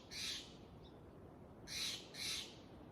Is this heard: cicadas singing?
no